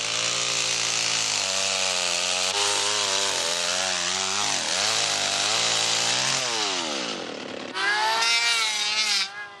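A chainsaw cuts a piece of soft falcata wood to carve a small sailing canoe. The engine drones loudly and continuously, its pitch dipping and climbing as the blade bites and frees, and it revs sharply near the end.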